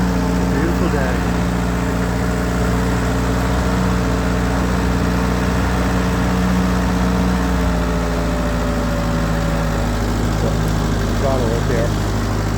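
A 1948 Ford 8N tractor engine chugs steadily and loud throughout a ride, a constant low rumble with a voice talking faintly over it.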